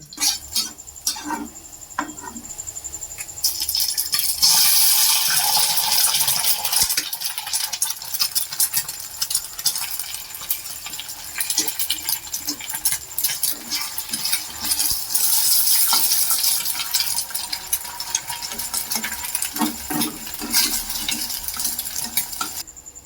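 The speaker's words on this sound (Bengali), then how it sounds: "আমি আর একটা ওভেনে একটু তেল দিয়ে কড়াতে ডিমটা ভেজে নেব" An egg frying in a little oil in a wok, a loud close sizzle with clinks and scrapes of a utensil against the pan, continuing steadily throughout.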